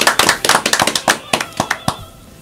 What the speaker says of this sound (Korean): 박수 치셔야 됩니다.